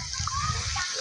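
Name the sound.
sea water splashing at a beach resort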